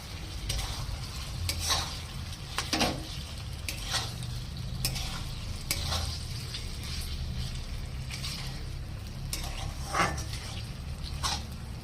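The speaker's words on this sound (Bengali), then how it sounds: "এখন মশলার সঙ্গে দিয়ে ভালো করে বটটাকে কষাবো" Boiled goat or beef tripe stir-fried with spice paste in a pan, a steady soft sizzle with repeated scraping strokes of a spatula, close and fairly quiet.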